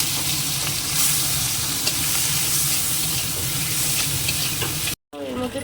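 Salted, turmeric-coated prawns fry in oil in a kadai, making a loud, continuous close sizzle with stirring scrapes; it cuts out briefly near the end before a short stretch of other sound.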